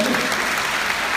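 Applause at a university Lunar New Year staff gathering, steady dense clapping filling the short moment at moderate level with no voices over it.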